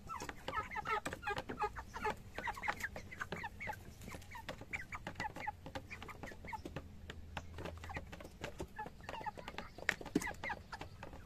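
Chickens and turkeys cluck and chatter continuously in the distance on a farm, a busy flock, with a faint dog bark now and then.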